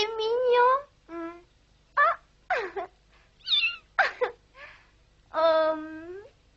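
A small kitten meows repeatedly in a series of short, high, plaintive cries close by, with brief pauses between calls; no talking is heard.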